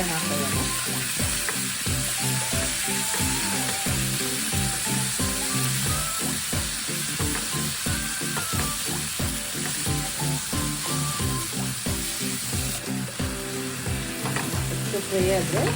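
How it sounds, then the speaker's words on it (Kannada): Onions frying in a pan for a tomato rice dish, a loud, steady sizzle with rhythmic stirring scrapes running throughout, close and continuous. "ಸ್ವಲ್ಪ ಈರುಳ್ಳಿ ಹಾಕೊಳ್ಳೋಣ ಫ್ರೈ ಸ್ವಲ್ಪ"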